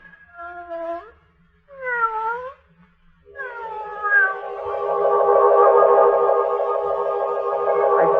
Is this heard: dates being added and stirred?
no